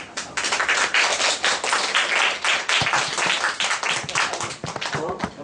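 An audience at a public forum on education gives steady, dense applause, with many hands clapping close and loud for the whole stretch without letting up.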